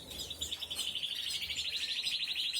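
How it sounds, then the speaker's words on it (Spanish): Small cage bird from a breeding setup chirps in a steady, rapid high-pitched trill that runs continuously, moderately close, with no voices. "Ese pájaro que veis, Isabela, es un pájaro con muy buena puntuac"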